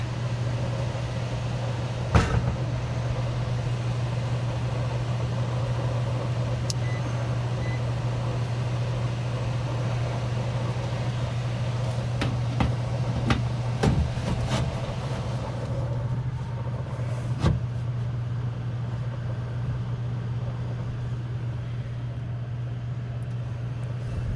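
A furnace blower running indoors gives a steady, even hum throughout, with a few faint clicks and brief knocks scattered over it and no voices.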